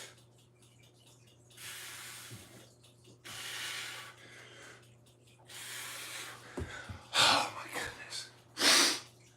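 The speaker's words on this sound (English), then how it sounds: "Excuse me with the sniffles." Several sharp sniffs and nasal breaths come in bursts, close and fairly loud, with quiet background between them.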